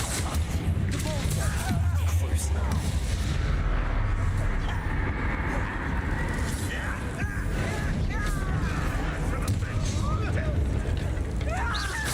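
A Bombarda explosion spell goes off during combat in a Hogwarts wizarding video game, a booming blast within a dense, continuous layer of battle noise and game effects, with a voice speaking over it.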